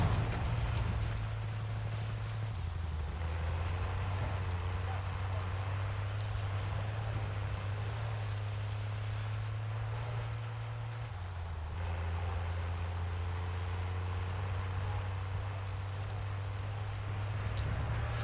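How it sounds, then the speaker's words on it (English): A truck engine idles nearby in Call of Duty Warzone. It makes a steady, low droning hum that shifts pitch slightly a couple of times, with faint game ambience and distant activity layered over it. "See, I don't know that that truck is supposed to be there."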